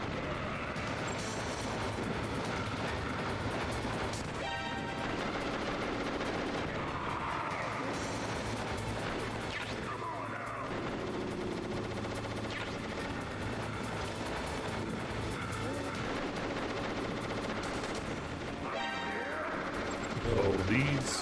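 Gunfire and crashing impacts from the shooting video game Metal rattle continuously through a busy combat mix, with bursts and scattered shots at moderate loudness and occasional talk over them.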